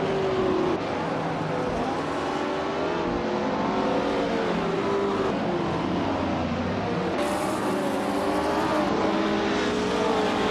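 A 1968 Porsche 909 Bergspider racing in a video game, its engine droning loud and continuous with rising and falling revs as it shifts through gears, holding steady throughout with no talking.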